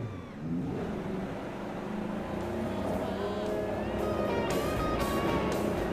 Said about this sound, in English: And you can hear the engines firing.